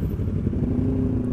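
A Honda NSR motorcycle's exhaust crackles and rasps loudly at a crowded bike show, a brief, steady burst of two-stroke engine noise.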